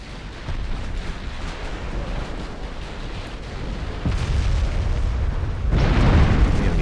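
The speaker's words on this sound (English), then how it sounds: "But my torpedoes are also hitting home." Torpedo hits exploding against warships in the naval video game Ultimate Admiral Dreadnoughts, a dense rumbling barrage of booms that swells louder toward the end, with no talking.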